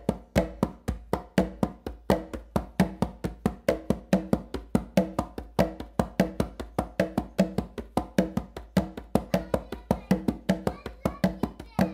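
Congas played in a clave exercise on the non-dominant side, a dense, even run of crisp hand strikes with regular accents, close-up and unaccompanied.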